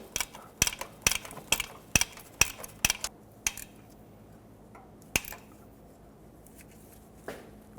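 A ratchet tightening starter bolts on a 2000-2005 Ford Excursion gives a quick run of about nine sharp metallic clicks, then a few scattered clicks and clanks, close and fairly loud with no talking.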